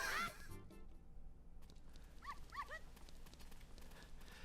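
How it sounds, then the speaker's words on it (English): In Ocarina of Time, a small dog gives a few short, quick yaps in a cluster in the middle, over quiet game background and a soft thud near the start. "We want to let this dog follow us in here."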